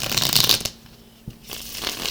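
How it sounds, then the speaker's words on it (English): A deck of tarot cards is shuffled up close in crisp, riffling bursts, with one at the start and another at the end and a quieter pause between them. "While I shuffle"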